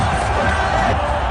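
Stadium crowd at the 2007 T20 World Cup semifinal between India and Australia roars after Irfan Pathan takes a wicket, a dense, sustained wash of cheering and whoops that holds steady throughout.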